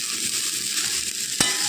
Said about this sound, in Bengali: এবার ওই পেঁয়াজের সাথে একটু নেড়ে নেবে হালকা করে।